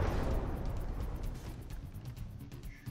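An artillery shell fires in the From the Depths naval combat game, a deep booming blast that decays into a low rumbling tail over a few seconds, with no voices.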